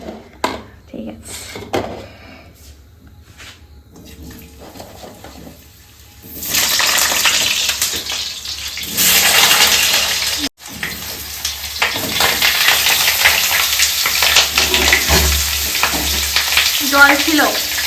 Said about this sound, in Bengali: প্রথমে আলুগুলোকে ভেজে নি